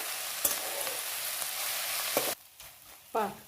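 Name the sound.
stir-frying fenugreek leaves (methi bhaji) with lentils in a pan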